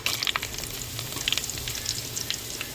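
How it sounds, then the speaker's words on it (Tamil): Mustard seeds and two dried red chillies fry in hot oil, giving a steady close sizzle dotted with quick popping crackles. "எண்ணெய் சூடாயிருச்சுங்க, கடுகு போட்டுக்கிறோம். 2 வத்தல் சேர்த்துக்கிறோம்."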